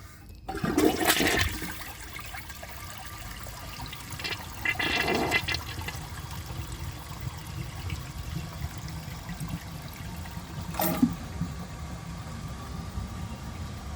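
Glacier Bay high-efficiency toilet flushed with the handle held down: a gushing rush of water at the start, then a long steady trickle and gurgling refill with a few sharper splashes, close and moderately loud.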